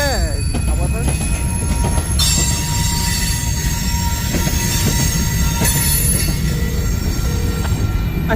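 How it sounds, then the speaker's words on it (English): A CSX grain hopper train rolls past in St Paul, Minnesota, with a loud, steady rumble and wheels squealing high above it throughout, plus occasional clanks from the cars. "A CSX grain hopper."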